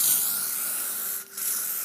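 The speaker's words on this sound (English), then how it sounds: "And then I always finish off with loads of hairspray." Hairspray sprayed over curled hair, heard close up as a long, loud aerosol hiss with one short pause before the spray resumes.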